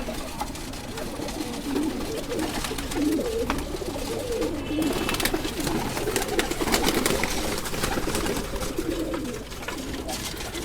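Breeding pigeons in a loft fill the space with continuous overlapping cooing, a dense, steady chorus of many birds heard close up with no talking.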